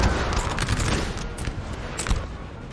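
Sustained musket volleys and artillery crackle in a Napoleon Total War battle at Friedland, a dense, continuous fusillade with scattered sharper reports, moderately loud and heard from a distance.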